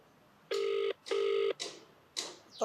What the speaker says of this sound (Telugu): కోదండరామ్ గారికి ఫోన్ చేస్తే ఎత్తట్లేదా?